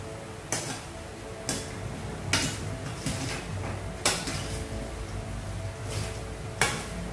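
Sliced vegetables for giardiniera being tossed and mixed in a container, a steady rustle punctuated by sharp knocks against the container at irregular intervals about once a second.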